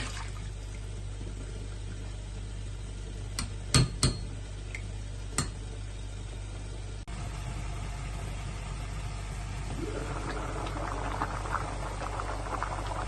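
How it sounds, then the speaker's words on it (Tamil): A pot of seeraga samba lamb biryani liquid boils steadily with a soft bubbling patter, joined by a few sharp clinks in the middle and a brighter, busier simmer toward the end, with no voices. "நல்லா கொதிச்சிருச்சு."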